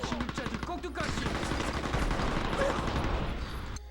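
Gunfire and explosions rattle during a firefight in Mercenaries: Playground of Destruction on the original Xbox, with rapid bursts of shots and dense blasts rolling in a continuous mid-distance barrage.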